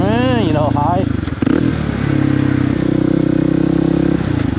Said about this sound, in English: We're going to shift down, so we're going to pull the clutch in, shift down, flip the throttle, let the clutch out.